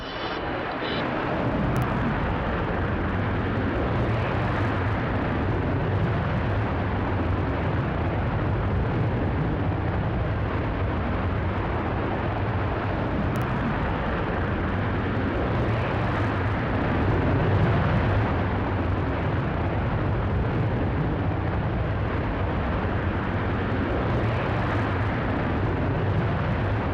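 The rocket motor of a Virgin Galactic rocket plane fires during a test flight to the edge of space, a loud, steady, broad roar that runs unbroken and constant throughout.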